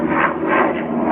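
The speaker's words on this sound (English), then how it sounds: "Medical helicopter." A medical helicopter flies overhead outdoors on a cold day, a loud, steady rotor and engine roar that rises and falls gently, with no voices.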